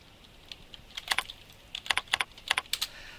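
Quick, irregular keystrokes tap on a computer keyboard during data entry, close and crisp, in short bursts of a dozen or so clicks without speech.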